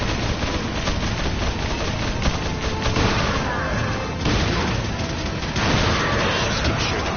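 Dense, loud Resident Evil 4 combat: rapid gunshots and grenade blasts pile into a continuous roar of booms and crackling fire, with faint voices underneath.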